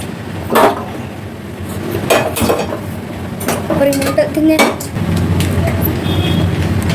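A pressure cooker being taken out and handled in a home kitchen while preparing instant popcorn, giving several sharp metallic knocks and clanks spread over several seconds against a steady low background hum.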